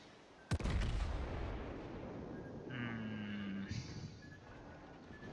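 Battleship main guns firing in World of Warships: a sharp, loud blast followed by a long rumbling roll, with a voice speaking briefly over the din.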